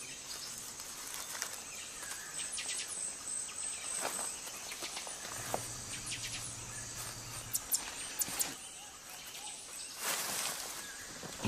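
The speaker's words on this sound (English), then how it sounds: "It's easy to nod off when serenaded by a chorus of frogs and insects." Nighttime outdoor chorus of insects and frogs, a steady high-pitched buzzing and trilling bed with scattered chirps and short calls rising out of it, moderately loud and continuous throughout.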